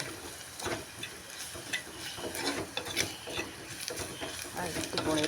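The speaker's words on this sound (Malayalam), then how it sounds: "ആ സ്പൂണ് ചൂടായി നന്നായി ഒന്ന് ഇളക്കി കൊടുക്കാം" A spoon scrapes and stirs through squid roast frying in a pan, giving a busy run of rough, ratcheting scratches and clatters close up with no pauses.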